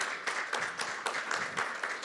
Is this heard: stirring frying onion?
no